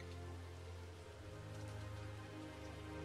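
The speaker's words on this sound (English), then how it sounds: "a lot of people have complained about the sound of the rain being way too loud" Steady rain falls in the video game Orbus VR, a dense, even hiss of drops that continues at a constant, fairly full level throughout, with no voices.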